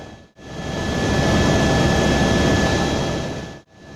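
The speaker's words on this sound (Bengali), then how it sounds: "হেলিকপ্টার ধীরে ধীরে নিচে নামতে শুরু করলো।" Inside a helicopter descending near the Nepal–Tibet border at sunset, a loud, steady engine and rotor roar with a faint whine fills the cabin, swelling in and cutting out briefly at each end.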